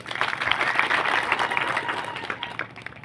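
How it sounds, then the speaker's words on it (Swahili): An audience applauds the board at a community projects launch in Naibunga Central, Kenya. Steady, dense clapping from many hands carries through the whole moment and thins slightly toward the end. "Kwa heshima ningependa tupigie bodi yetu makofi"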